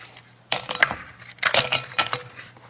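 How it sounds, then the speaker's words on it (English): Ice cubes get dumped into a glass, a few sharp clattering bursts of clinking and rattling hard cubes in quick succession, loud and close with no talking. "dump the ice cubes in here"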